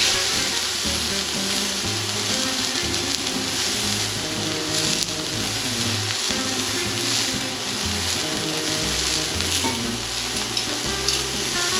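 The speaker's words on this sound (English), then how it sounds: "We'll get this thing nice and seared up. It's buttered." Beef searing in a buttered pan gives a loud, steady sizzle and frying crackle that never lets up, with faint scraping and stirring noises mixed in.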